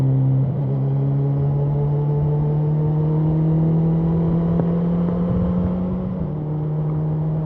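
A 2018 Honda CB1000R motorcycle engine drones steadily while riding, a loud close hum that swells and dips gently with throttle changes, with wind noise and no talking.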